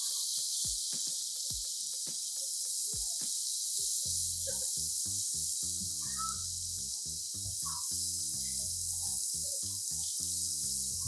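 Prawns and chilli peppers frying in sizzling hot oil in a hotel kitchen, a steady broadband hiss throughout with scattered pops and clicks, and irregular clanks and knocks from utensils on the pan, no talking.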